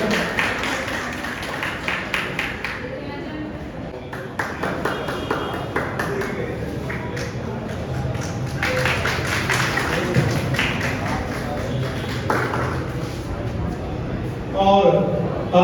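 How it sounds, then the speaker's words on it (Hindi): Applause welcoming a Char Dham yatra traveller at a felicitation event in Muzaffarnagar, a crowd's scattered clapping with sharp taps running throughout under and between bursts of speech, with a louder swell near the end. "एक बार जोरदार तालियों से यात्रा का स्वागत"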